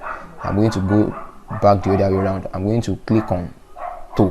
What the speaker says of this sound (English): Sorry for the background noise, which is the dog in my compound.